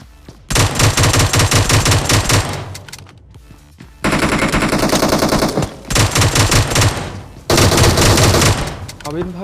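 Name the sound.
gunfire in PUBG Mobile video game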